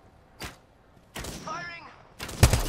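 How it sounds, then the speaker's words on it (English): Gunfire aimed at the player in a squad battle-royale shooter game: one loud broadband shot near the start, a burst with a whizzing tail in the middle, then a sharp close crack at the end, with quiet gaps between. "They're shooting at me."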